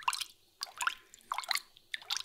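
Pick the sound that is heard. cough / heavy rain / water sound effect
water sound effect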